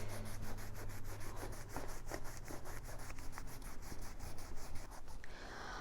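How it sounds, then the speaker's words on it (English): A rubber Halloween mask is scrubbed with naphtha on a shop towel, producing steady close-up rhythmic rubbing strokes that continue without a break and fade slightly at the end. "just put it on a shop towel and really scrub the mask really good"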